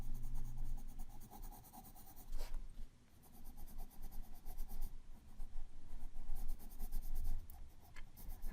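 Pink colored pencil scratches across paper in steady, light back-and-forth strokes, close and soft, filling in a drawing with brief pauses between passes.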